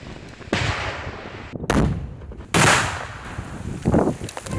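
Controlled detonations of unexploded ordnance by a demining team, heard as two loud, sharp blasts with long rumbling tails, followed by a weaker third burst near the end.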